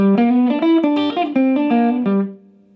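A short, bright electric guitar blues lick of quick bending notes, played at full speed, loud and up close, ending on a sustained note that fades out.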